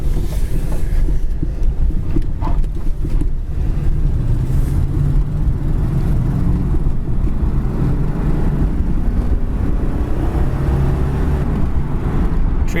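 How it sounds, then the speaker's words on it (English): A red 1979 Pontiac Trans Am on the move gives a steady, close engine and road rumble with drivetrain drone throughout, a continuous low roar with no talking. "Transmission shifts very smooth."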